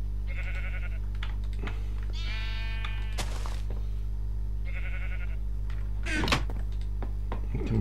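Minecraft sheep give several short, nasal bleats spaced a second or two apart over a steady low hum, with a couple of soft in-game thuds mixed in.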